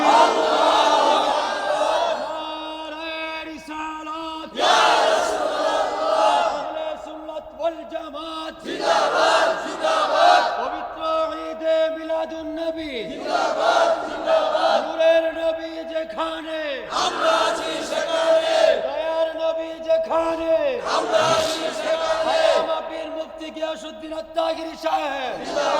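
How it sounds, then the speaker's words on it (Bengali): A large gathering at a Bangla religious sermon roars a slogan in unison in repeated loud bursts, about six shouted waves with brief pauses between, answering a cleric's takbir call. "একটু হাত তুললা একটা স্লোগান হবে জবান খুলে"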